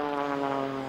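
A Pitts Special S2S biplane's engine drones during high-G aerobatics, a steady buzzing propeller tone with strong harmonics, fairly faint and distant, without any voices.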